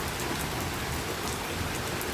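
Steady rain falling during a June thunderstorm, a dense, even patter across the whole stretch with no voices, fairly close and constant.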